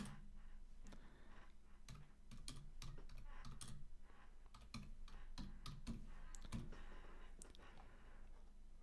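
Keys on a computer keyboard clatter in quick irregular bursts with short pauses, quiet and close, over a soft background hum.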